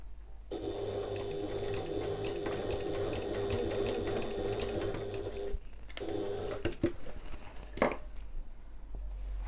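A sewing machine runs back and forth across fabric on an evening bag flap, a close, steady mechanical chatter with a short pause midway and light clicks of handling before stitching resumes.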